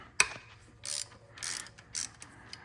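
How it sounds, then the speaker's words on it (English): A 3/8 ratchet with a 15mm short socket breaks loose the oil drain plug on a Ford Explorer, giving a sharp initial crack followed by three short bursts of close ratchet clicking, with no talking. "Just 3/8 ratchet with a 15mm short socket. And you're just gonna wanna go ahead and break it loose."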